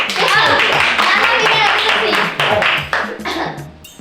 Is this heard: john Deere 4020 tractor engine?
no